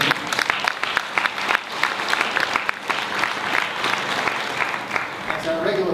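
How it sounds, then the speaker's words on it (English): An audience at a 125th anniversary celebration in Wesley United Methodist Church gives a loud, steady round of applause lasting several seconds, with voices mixed into the crowd noise. "Let's give them a round of applause."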